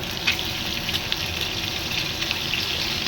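Eggs fry in hot oil with a dense, continuous hissing sizzle, close and fairly loud, with small crackles scattered throughout.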